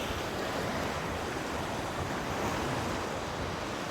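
Rough sea surf rolling in at Barangay Hubilyar, Tarragona, a steady, loud wash of breaking waves mixed with gusting wind noise on the microphone, with no speech.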